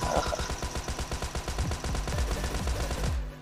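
Rapid, steady machine-gun fire in a mobile shooter game, a loud unbroken stream of evenly spaced shots running nearly the whole time before stopping abruptly at the end.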